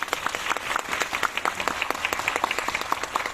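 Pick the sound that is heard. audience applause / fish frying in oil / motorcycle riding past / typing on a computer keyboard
audience applause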